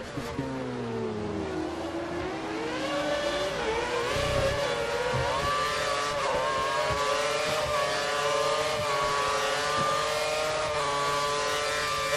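Formula 1 car engine in the F1 2013 racing game at Belgium, a loud, continuous high-pitched whine that climbs and falls through gears as it revs, running alone without talk.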